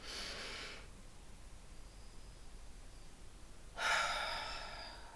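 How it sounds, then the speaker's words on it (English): A slow deep breath drawn in and released during a calming meditation, two broad airy breath sounds with a quiet pause between them, close and soft, with no talking. "All right, another deep breath."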